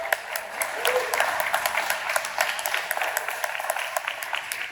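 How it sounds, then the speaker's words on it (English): Applause from the audience at a county mental health budget talk, a dense patter of many hands that carries steadily from start to finish, with murmuring voices underneath. "Please clap."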